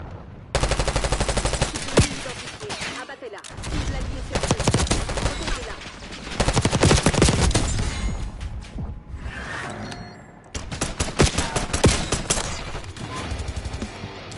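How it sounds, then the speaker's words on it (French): Gunfire in Black Ops 6 comes as loud, rapid automatic bursts in several volleys broken by short pauses, with a few clicks and whooshes between them. "le mec il met un million de balles"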